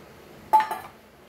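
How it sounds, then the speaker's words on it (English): Prawns are tipped into fried masala in a pan for Goan prawn masala, making one sudden clattering sizzle-splash followed by a smaller second hit, then quickly fading. "at this point we will add our prawns"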